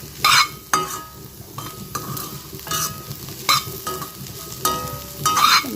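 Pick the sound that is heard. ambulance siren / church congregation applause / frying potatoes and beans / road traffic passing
frying potatoes and beans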